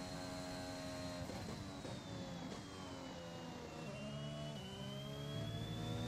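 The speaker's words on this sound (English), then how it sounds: "Was a bit too early with the upshift." A Formula 1 car engine in F1 2021 screams at high revs, its pitch sliding upward, then dropping sharply on an upshift about two-thirds of the way through before climbing again. The engine is loud and steady, with no voices.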